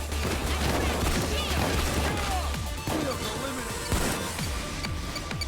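Rapid gunfire and crashing impacts from a heist shooter game, Payday, sounding as dense overlapping shots that run without a break, with voices talking underneath.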